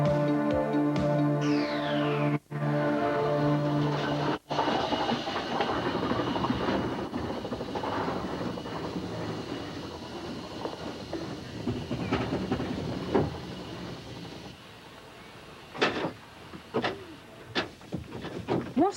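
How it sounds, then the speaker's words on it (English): A traction engine runs with a steady mechanical chuffing and clatter, preceded by a whistling tone and two sharp cutoffs, then later broken by several sharp hissing bursts and knocks at close range. "How does the driver control this traction engine?"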